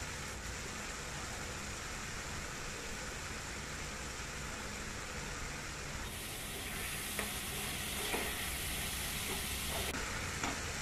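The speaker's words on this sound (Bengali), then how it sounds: "এবার ভেজে নিচ্ছি সিমের বিচিগুলি।" Broad bean seeds fry in a pan with turmeric and salt, giving a steady close sizzle and crackle with occasional stirring scrapes, no talking.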